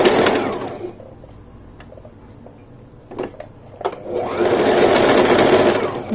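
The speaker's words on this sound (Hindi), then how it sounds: "तो सिलाई लगाते जाएंगे और पिने निकालते जाएंगे" A sewing machine stitches around the neckline of a kaftan in two loud, steady runs at start and end, with a quieter pause of small clicks and handling noises between them.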